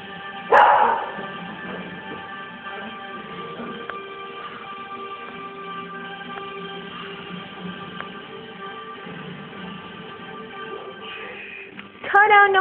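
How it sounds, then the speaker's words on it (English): A dog gives a short, sharp burst of barking at a television playing 101 Dalmatians, near the start and again at the end, over the steady television sound. "He's barking at 101 Dalmatians."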